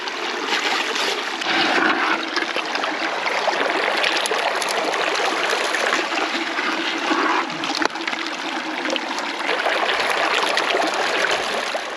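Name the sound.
water running through a sluice box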